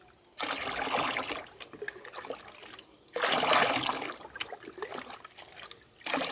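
Herbal soil tonic is stirred into a container of water for a rooftop eggplant pot, giving soft sloshing and swirling splashes in two bursts with quieter trickling between them, fairly faint and with no voice.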